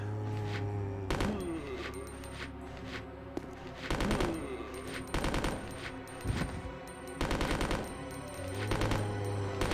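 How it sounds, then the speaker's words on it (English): Gunfire against zombies in the video game Resident Evil Code Veronica, with loud, rapid bursts of automatic shots repeating in clusters over a low game background hum. "Steve can shoot 2 zombies at once."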